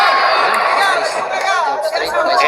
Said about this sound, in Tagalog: And the crowd reacting to this